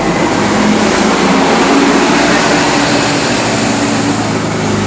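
A bus on a street in Long Island, a loud, steady, broadband engine roar that holds close and constant throughout, with no talk.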